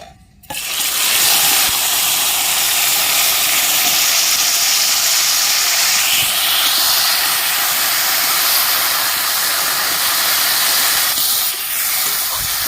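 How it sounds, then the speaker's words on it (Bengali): Okra frying in hot oil in a kadai gives a loud, steady hiss and sizzle that starts abruptly and runs unbroken, with no talking. "আমি ঢেঁড়সগুলো ভেজে নিচ্ছি"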